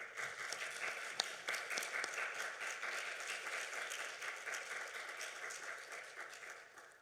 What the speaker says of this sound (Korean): 박수 한번 큰 박수 보내주세요